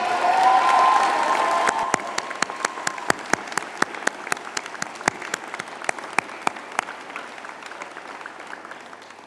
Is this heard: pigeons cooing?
no